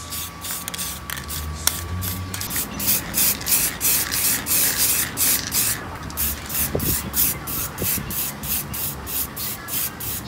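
A spray can coats a car's coin drawer in metallic gray for an old car, short hissing bursts repeating in an even rhythm of sweeping strokes, loud and close with no talk.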